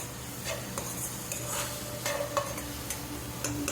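Prawn chutney with kokum and coriander sizzles softly in a pan while a spoon stirs and scrapes in irregular strokes, with occasional clinks against the metal, close and fairly quiet.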